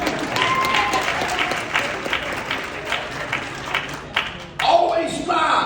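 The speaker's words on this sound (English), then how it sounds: "You go ahead and clap." An audience claps during a motivational talk on student success, a fairly loud burst of applause mixed with crowd noise that carries on steadily while a voice cuts in near the end.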